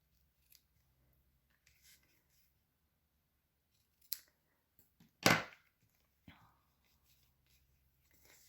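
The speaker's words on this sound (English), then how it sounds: "come back in with our ribbon scissors and trim off the ends" Ribbon scissors trimming the ends of a ribbon at a papercraft table give a few faint snips, the loudest a crisp cut near the middle, with quiet rustling and sparse sounds in between.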